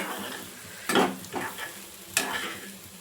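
Egg bhurji fries in a pan while a spoon stirs it, a soft steady sizzle broken by two or three scraping stirs close by, with no talking.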